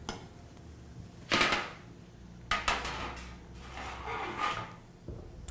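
Rosemary pecans tipped into a pan, a few separate bursts of rattling and clattering nuts with light metallic knocks, close and fairly quiet between the bursts.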